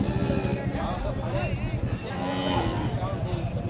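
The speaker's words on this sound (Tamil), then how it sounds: "ஒரு நல்ல மாடு ஏற்றிட்டு போகிறாங்க, பசு மாடு." Bargur hill cow at the Anthiyur cattle market, a low bovine call rising amid a busy crowd of voices and livestock clatter while it is loaded; people talk throughout.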